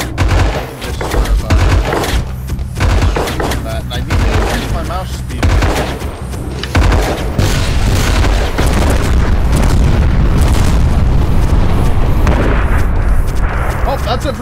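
Continuous booming explosions and rapid gunfire-like bursts, loud and chaotic, with rockets and blasts overlapping throughout.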